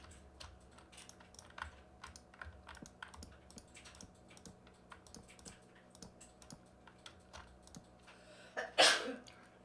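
A single sharp sneeze bursts out near the end, close and loud, over steady computer keyboard typing and clicking during a German Minecraft gaming session.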